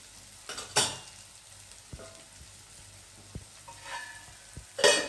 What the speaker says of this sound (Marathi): आणि याला छान परतून घेऊ